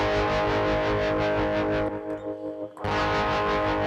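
Electric guitar played through a pedalboard with distortion and tremolo pedals, including a Behringer TM300, produces a thick, sustained, overdriven chord. The sound cuts out briefly, then the heavy tone returns at full volume.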